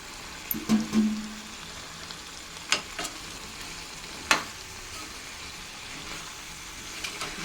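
Drumsticks frying in chicken curry masala, a quiet continuous sizzle in a home kitchen with a few sharp clinks of a spoon against the pot.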